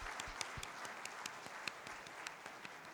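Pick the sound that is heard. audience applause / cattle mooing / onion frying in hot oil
audience applause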